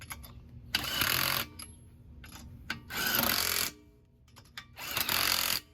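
Three bursts of a power tool hammering wheel spacer nuts onto a Toyota GR86, each about a second long and loud, with quieter gaps between them and no talk.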